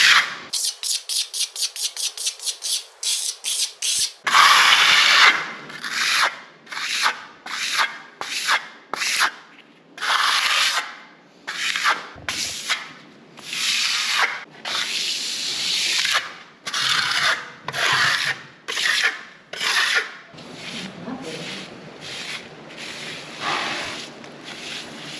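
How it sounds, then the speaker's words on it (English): Wet plaster being sponged and troweled into a corner, a run of rough rubbing and scraping strokes, quick short passes at first then longer uneven sweeps, close and fairly loud with no talk. "trying to get that sponge in this corner in, and I've got to trowel it"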